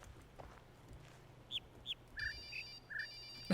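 Electronic phone in the puzzle game The Witness plays a short tone melody of five or six clear, bright beeps at varied pitches, faint over a quiet background hum, with a steady high tone underneath.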